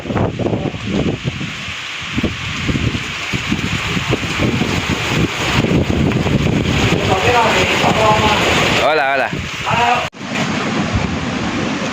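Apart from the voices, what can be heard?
strong wind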